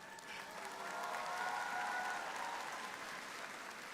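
Steady audience applause at a high school graduation ceremony, a dense, even wash of many hands clapping that swells slightly and holds for several seconds with no talk over it.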